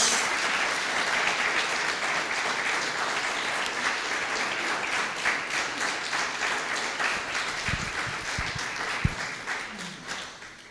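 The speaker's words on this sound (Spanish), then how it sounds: "Dale un aplauso al Señor" Sustained crowd applause at a church service, steady and dense throughout, with a few sharper claps standing out near the end.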